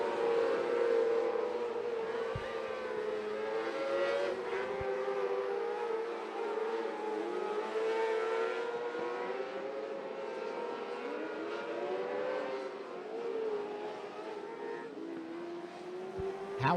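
600 mini sprint race cars lap a track during qualifying, their engines a distant, steady droning whine that rises and falls as they circle. The sound stays fairly faint and continuous.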